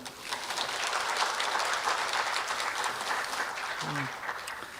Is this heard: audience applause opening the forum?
yes